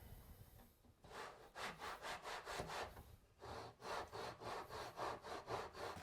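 Steady back-and-forth strokes of a coarse rasp roughing down the edge of a wooden sword, close up and rhythmic, with a brief pause before the scraping resumes in regular bursts.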